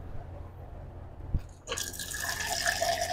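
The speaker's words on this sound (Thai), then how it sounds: "กดน้ำร้อนก่อน" Hot water dispensed from a hot water dispenser to measure about 500 ml for homemade ice cream, starting with a faint click and then a steady pouring stream that grows fuller as it fills, with no voices.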